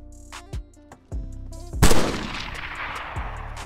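A single sharp gunshot in DayZ cracks loudly near the middle, trailing into a rumbling echo, after a few softer thuds and clicks of game sounds.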